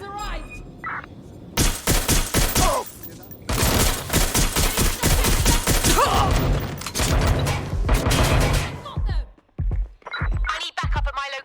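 Dense bursts of rapid automatic gunfire in the video game Watch Dogs Legion, several long volleys with brief gaps between them, loud and close, followed by scattered single shots and mechanical clatter near the end.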